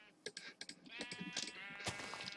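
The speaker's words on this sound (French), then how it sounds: "on va aller tuer du mouton et tout" A sheep bleats in a Minecraft-style block game, with a wavering bleat heard over soft clicking of keys and game sounds, fairly faint overall.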